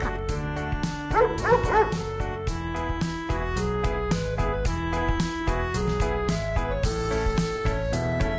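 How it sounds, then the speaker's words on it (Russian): A dog barks in a children's animal-sound and colour-learning song, with short yips over loud, busy music. "Собака."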